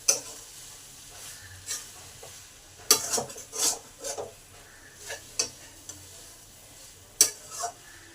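Chopped kulpi greens stirred in a hot pan with spices, soft sizzling frying throughout with sharp clinks and scrapes of the spoon against the pan at irregular intervals.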